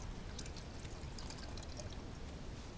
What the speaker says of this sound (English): I'm gonna put some water in our pot.